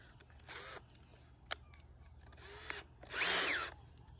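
A power drill fitted with a Kreg Jig pocket-hole bit gives several short whirring bursts, the last one longest and loudest, with a sharp click between them in a quiet room.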